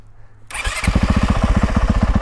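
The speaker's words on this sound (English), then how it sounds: "The other feature is it has electric start." A 2019 Honda CRF 450R dirt bike fires up on its electric starter after a short quiet moment, settling into a loud, close, steady pulsing idle.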